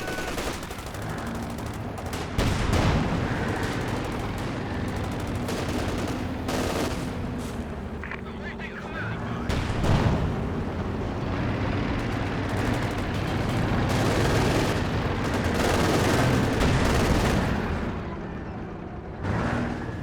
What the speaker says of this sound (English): Rifles getting involved now as well.